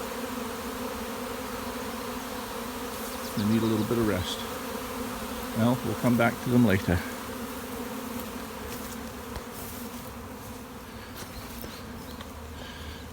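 Swarm of young honey bees droning in a dense, continuous hum close by, while someone talks quietly over the buzzing in short bursts.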